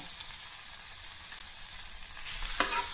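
Ginger and garlic fry in butter in a pan with a continuous steady sizzle, and a brief stir or clink is heard near the end.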